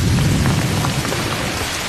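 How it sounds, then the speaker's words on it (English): Heavy rain pours steadily outdoors in a forest setting, a loud, dense hiss of drops close by, with a low rumble of thunder underneath. "Okay, so here comes the rain"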